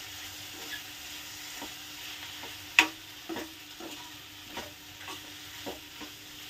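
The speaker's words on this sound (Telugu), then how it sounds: "ఇలా ఫ్రై చేసుకోండి." Chicken for biryani frying in a pan, a faint steady sizzle punctuated by repeated scraping stirs and a sharp clink of a utensil against the pan, with no talking.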